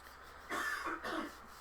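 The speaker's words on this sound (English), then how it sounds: "if you hear coughing and sputtering in the background, that's my husband" A sick man coughs and sputters faintly in the background, two short muffled bursts in a quiet room.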